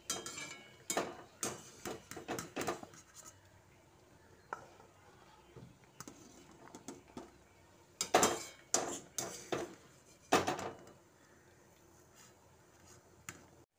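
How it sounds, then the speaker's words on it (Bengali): Boiled cabbage pieces lifted from water with a strainer and set into a bowl, heard as scattered sharp clinks and knocks of metal utensils against pots and dishes, some clustered in quick bursts, fairly close with no talking. "তুলে একটা পাত্রে রেখে দিচ্ছি।"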